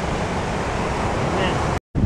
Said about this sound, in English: These waves are crazy.